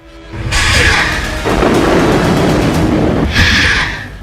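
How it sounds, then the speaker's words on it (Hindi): Rumbling blasts from a rocket attack near the Lebanon border roll on continuously with a dense, noisy roar that swells at the start and again near the end, loud and without speech. "लेबनान की सीमा के पास रॉकेट से हमला दिखा।"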